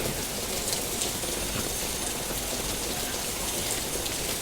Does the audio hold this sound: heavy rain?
yes